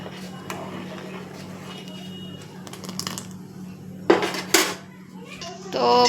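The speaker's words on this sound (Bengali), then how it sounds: "ডালটা দেখো একটু ফুটছে, ডালটা আমি নেড়ে দিই" A pot of boiling dal lentils is stirred on a gas stove, with a few sharp metallic clinks and scrapes of a spoon against the pot over a steady low kitchen hum, while voices talk in the background.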